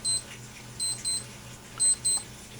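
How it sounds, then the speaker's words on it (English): A wristwatch alarm beeps in short high-pitched double bursts, a pair then a pause then another pair, faint against a quiet workshop hum with no talk. "watch alarm going off"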